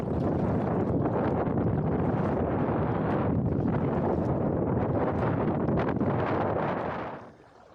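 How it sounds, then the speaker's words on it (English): Strong wind buffets the microphone on a choppy lake during a kayak paddle, a loud continuous roar and rumble that drops away suddenly at the end. "the chop is up, the wind is up"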